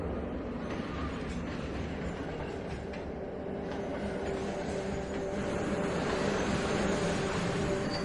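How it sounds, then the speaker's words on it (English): Subway train arriving at a Queens-bound station platform, a steady, faint rumble and rattle of rail cars that slowly builds in loudness over several seconds, with no clear talking. "Train incoming on platform 2. Going to Queens."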